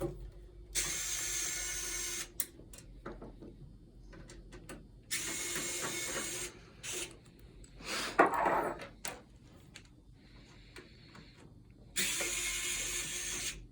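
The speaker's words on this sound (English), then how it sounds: "So we're going to start by removing the screws and removing the case lid" Several short bursts of an electric screwdriver whir one after another, removing screws from the case lid of a 3Com NBX V3000 phone system unit, with clinks and handling noises between them.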